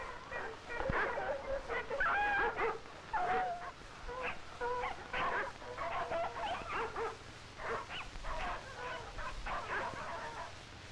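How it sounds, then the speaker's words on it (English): Sled dogs in snowy Alaskan Northwest country bark, yip and whimper continuously, several animals overlapping at moderate distance in a restless, uneven chorus throughout. "When we come to a place where the snow is soft, the dogs have difficulty hauling the sled."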